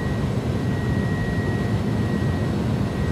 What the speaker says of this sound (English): The sound, the takeoff sounds in this airplane are awesome.